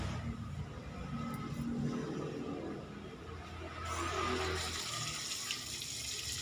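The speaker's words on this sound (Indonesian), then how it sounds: "Sekarang kita cuci coba kan." Freshly harvested red ginger is washed under running water, a continuous splashing, faucet-like rush heard close up and fairly faint, with no voices.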